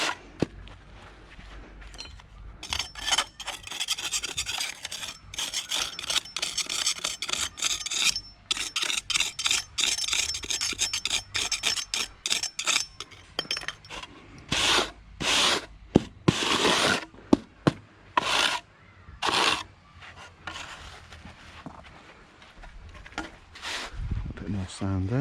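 A float drags sand across block paving on a driveway in repeated rough, gritty scraping strokes. The strokes are loud and close, alternate with short pauses and light tapping, and grow heavier toward the end.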